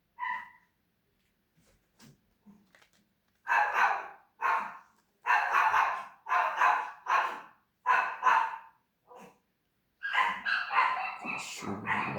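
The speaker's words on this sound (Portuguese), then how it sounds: "Cachorro latindo" A dog barks in a run of sharp, fairly close barks, a couple of quieter yips first, then a steady burst of loud barks and a final flurry, with no talking over them.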